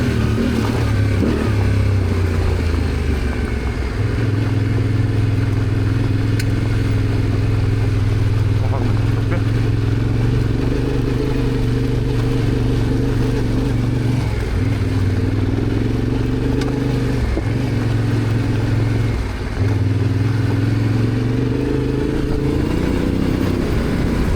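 A Yamaha Tenere motorcycle rides mountain roads in the French Alps in winter, its engine droning steadily and loud with shifting revs and wind rush throughout, close to the rider.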